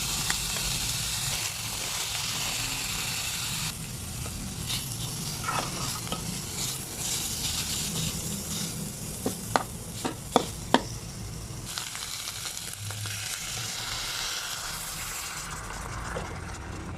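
Curry paste stir-frying in oil for a spicy wild boar stir-fry: a constant close sizzle with spoon scrapes and stirring throughout, plus a few sharp clicks of utensil against the pan partway through.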